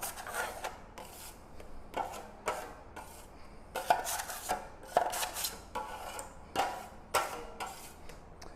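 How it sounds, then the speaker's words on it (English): Drywall mud being scraped out of a mud pan with a knife, a series of short metallic scrapes and clinks in an irregular rhythm, close and fairly quiet, with brief pauses between strokes. "I'm just gonna clean the mud out of my pan"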